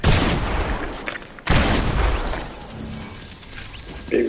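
Gunfire in Fortnite on PS5, rapid bursts of shots followed by a second heavy volley, loud and close, then tailing off into quieter game sounds.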